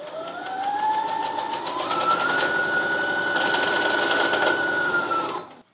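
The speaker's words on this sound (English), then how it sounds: "I'm gonna make sure that I put my presser foot down when I'm sewing. I'm just gonna do a straight stitch." Baby Lock Brilliant sewing machine running a straight stitch: a steady, close motor whir that rises in pitch, holds a continuous rapid needle rhythm for several seconds, then stops.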